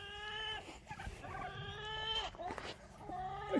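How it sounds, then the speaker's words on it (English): Chickens on a farm where goats are also kept make a run of harmonic, slightly odd-sounding calls and squawks, fairly close and steady across the moment, with a few low thumps underneath. "The chickens sound funny,"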